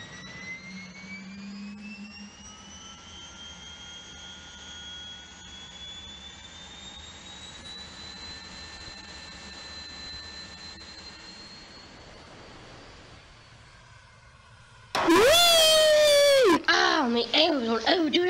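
Simulated Boeing 777 jet engines spool up for takeoff in the PTFS flight game: a steady, loud turbine roar with rising whining tones that builds for about fifteen seconds before a sudden, louder sound cuts in at the end.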